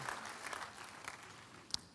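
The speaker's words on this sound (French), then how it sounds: "Donnez à l'Éternel une offrande d'acclamation" A church congregation applauds at an evening worship service during a fasting and prayer event, a steady wash of clapping at moderate level with a sharper burst near the end.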